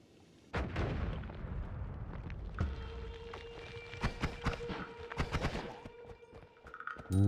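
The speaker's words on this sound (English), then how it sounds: "Still got a little bit of explosion, but not too much." Explosions and spell blasts in the video game Noita, a rapid series of sharp bursts and crackling impacts with a sustained tonal hum running through the middle, fairly loud and busy, ending in a louder burst.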